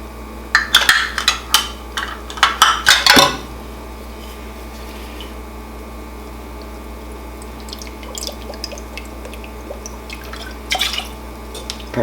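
Rice vinegar poured into a bowl holding brown sugar, heard as a short burst of liquid splashing and dripping early on, then a quiet room with a few faint clinks and drips.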